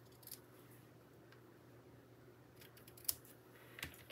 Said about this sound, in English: And then trim the ends.